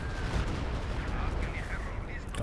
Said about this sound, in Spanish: Y sacó ese semioruga con los múltiples cohetes.